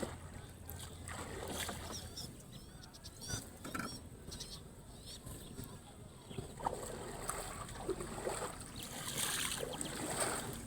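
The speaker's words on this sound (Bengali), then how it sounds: "নৌকাটা একেবারে হচ্ছে ছোট ডিঙ্গি নৌকা" A small wooden dinghy rocks on open water in a wetland at dusk, with soft splashes and water lapping against the hull beneath a steady background wash. Voices talk quietly at times.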